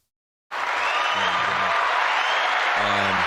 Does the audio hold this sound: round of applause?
yes